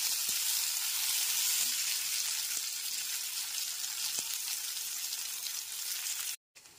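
Chopped medium tomato frying with potato pieces in hot oil, a steady loud sizzle with a few soft stirring knocks, ending in a brief cutoff.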